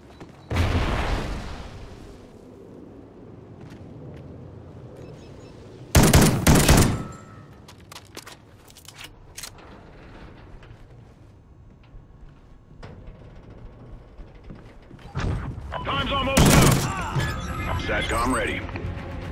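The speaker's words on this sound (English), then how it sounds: "I'm using an unsuppressed gun. So when I fire, track my general vicinity." Unsuppressed gunfire in Call of Duty: Ghosts, with a sharp early shot, a loud burst around the middle and another heavy volley near the end, interleaved with talking and quieter game sounds.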